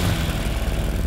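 A lawn mower engine drones steadily and loudly, a rough low rumble with no pauses.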